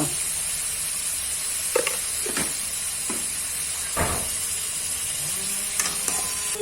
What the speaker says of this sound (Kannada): ಫಸ್ಟ್ ಕ್ಲಾಸ್ ಆಗಿ ಹುರಿಬೇಕು